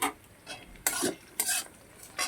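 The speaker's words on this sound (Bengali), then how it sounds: "দেখো পেঁয়াজটা ঠিক এইভাবে ভাজা ভাজা হবে" Onions browning in oil in a pan on medium heat, stirred in repeated strong scraping strokes over a continuous close sizzle, with no talking.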